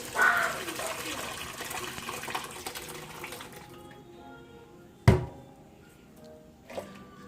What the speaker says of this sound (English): washing and until all the skins are off from the beans